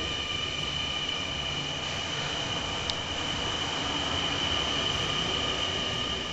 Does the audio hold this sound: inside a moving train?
yes